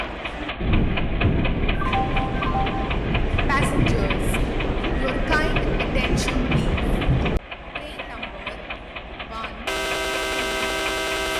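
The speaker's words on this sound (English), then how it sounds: "Passenger express is arriving at platform" Ratna Express passenger train with a WDG 3A diesel locomotive arriving at a station: a loud, continuous rumble and clatter of wheels on rails, then a quieter platform stretch and a tonal station chime.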